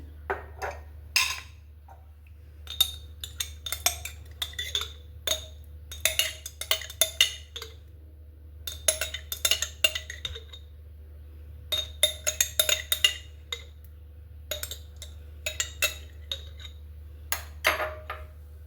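A spoon clinks repeatedly against a bowl as mayonnaise, tomato sauce and red chili sauce are mixed together, giving irregular bright taps and scrapes over a low steady hum.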